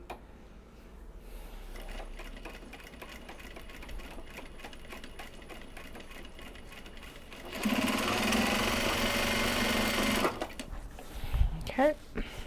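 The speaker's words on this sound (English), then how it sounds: "Bobbin winding" A sewing machine winds a bobbin, starting with a quieter mechanical whir that rises into a fast, loud steady hum for a few seconds before stopping, followed by a couple of clicks.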